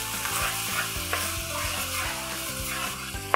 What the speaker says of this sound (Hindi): अब मैं इसमें 2 टीस्पून लहसुन अदरक का पेस्ट ऐड कर रही हूँ।